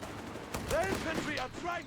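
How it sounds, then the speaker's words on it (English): MP40 submachine gun fire in the strategy game Company of Heroes 3 rattles in short bursts amid battle sounds, partly under a commentator's voice. "MP40 guns catching the mortar here."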